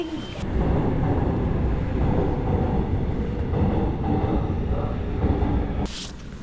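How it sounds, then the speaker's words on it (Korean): Subway train in Seoul running between Gangnam and Sadang stations, a loud steady rumble and roar of the moving carriage throughout, with a brighter squeal near the end as it slows. "이제 강남역에서 사당까지 10분 정도 전철 타고 가야 됩니다"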